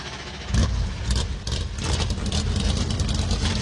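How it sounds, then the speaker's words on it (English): NASCAR Cup Series stock car engines firing up together for an All-Star race in Wilkes County, North Carolina, a dense rumbling roar with bursts of revving, loud and sustained without speech. "Drivers, start your engines."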